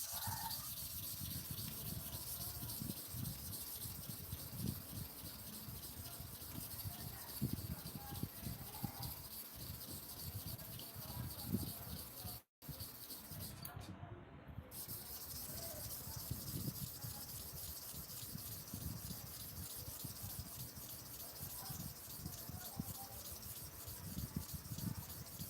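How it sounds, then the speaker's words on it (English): Steady rasping strokes of a barber clipper blade being sharpened back and forth on a flat surface, an even rhythmic scraping that continues for the whole stretch with no talking. "That's 50 times to and fro each side."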